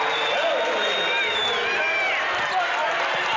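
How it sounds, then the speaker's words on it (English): Home crowd at a boys high school basketball game, New Castle against Cumberland Valley, cheering and whooping in a steady, loud roar of voices that fills the gym for the whole stretch. "Just like that, the crowd comes alive a little bit too."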